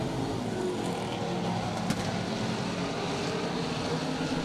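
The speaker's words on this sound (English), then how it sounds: "Sullivan now feeling the heat from the 49 car of Joe Denseski" Race cars run together during a heat race on an oval track, giving a steady, dense engine roar that stays loud and continuous throughout.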